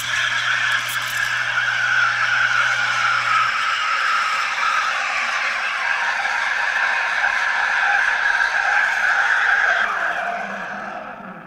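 The steam wand of a Sanremo Cube R espresso machine purges with a steady, loud, close hiss. It runs unbroken for about eleven seconds and then tapers off.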